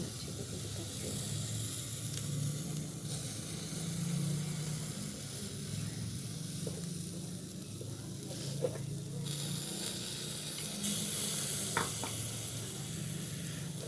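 Homemade BBQ chicken pieces cooking give a continuous broad sizzle and hiss, fairly loud and close, with occasional pops and brief spitting bursts.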